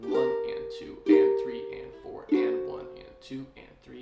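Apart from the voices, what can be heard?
No everyday noise stands out behind the speech.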